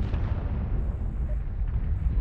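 Rumbling, low-heavy explosion burst as a mech's AC-20 autocannon is destroyed in MechWarrior Online, a dense roar sustained over a couple of seconds with no voices.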